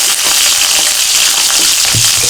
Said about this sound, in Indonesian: Ini kita masak untuk daun bawang dan cabenya sampai agak layu ya, sampai matang.